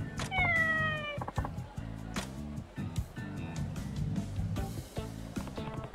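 Cat meowing in the video game Like a Dragon: Ishin!, a loud, close series of drawn-out meows and yowls repeating over several seconds, backed by a steady game music bed.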